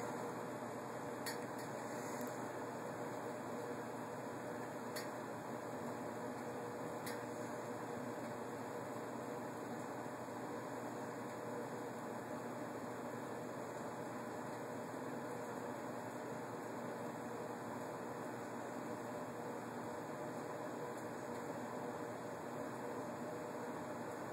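A Whitfield P20 pellet stove with an overheating fault running about two and a half feet away, a steady broadband fan-like whoosh with a constant hum, faint ticks now and then, unchanging for the whole stretch, no talk.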